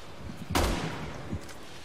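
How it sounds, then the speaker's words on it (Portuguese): A sharp, loud shot bursts out in Resident Evil 6, followed by a fainter second report, with gunfire echoing briefly in a quiet background. "Três tiros."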